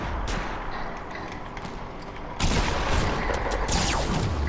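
Heavy shotgun firing in a Fortnite match, dense crackling gunfire throughout, then a louder, closer burst of booming blasts in the second half, with no talking.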